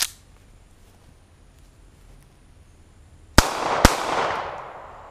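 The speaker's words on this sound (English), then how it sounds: "let's put some real bullets downrange" A Zastava M88A pistol loaded with 9mm and Tokarev rounds fires twice after a quiet pause, two loud, sharp reports about half a second apart, with a ringing tail fading out.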